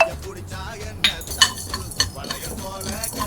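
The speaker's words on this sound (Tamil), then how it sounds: "கடுகு நல்லா வறுப்பட்டுருச்சு" Mustard seeds roasting in a dry pan for a Tamil-style mango pickle, with close stirring scrapes, faint crackling pops and a few sharp clinks of a spoon against the pan, no talking.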